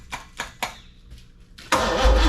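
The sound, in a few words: 396 big block Chevy engine starting up in a 1972 Chevelle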